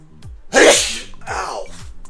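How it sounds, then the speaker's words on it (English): A person sneezes once, loud and close, with a sharp burst followed by a softer second exhale, then quiet. "Oh, sneeze."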